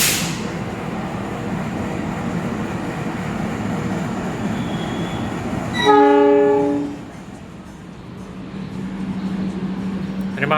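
A double-locomotive train at Surabaya Pasar Turi station in Indonesia sounds a long, loud horn blast of about a second over steady platform rumble, after which the station ambience settles back to a quieter hum.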